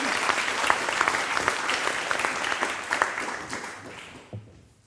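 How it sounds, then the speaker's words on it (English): Conference audience applauding at the closing session of a biodiversity knowledge conference, a dense steady patter of many hands that thins and fades out near the end. "Another applause for Caroline."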